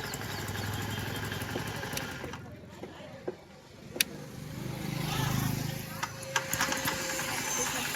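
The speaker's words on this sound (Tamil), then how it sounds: "செல்ஃபில் வண்டி ஸ்டார்ட் ஆகிடுச்சு." A motorcycle converted from BS6 to BS4 starts on its electric self-starter and settles into a steady idle, with someone talking over the engine noise and some clicks and taps.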